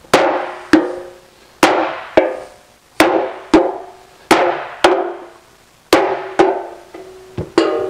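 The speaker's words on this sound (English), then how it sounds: "each hammer blow is just a lift and snap" A Delrin head hammer striking sheet metal to shrink it, about fourteen sharp ringing blows at a steady, slightly uneven pace, each decaying briefly, loud and close.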